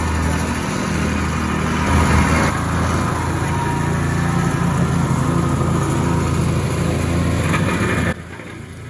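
A whacker plate compacts hardcore on a Victorian-style house build up to damp course level, a loud steady engine drone with rapid vibrating thump running continuously up close, dropping in level near the end.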